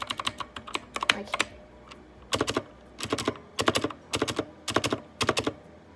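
Typing on a Redragon keyboard: brisk, crisp key clicks come in quick bursts of several strokes each, close to the microphone, with short pauses between the clusters and no talking.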